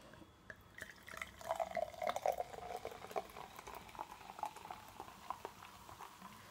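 A celebratory drink is poured, giving a soft, close trickling and splashing of liquid that builds for a couple of seconds and then tapers off to drips.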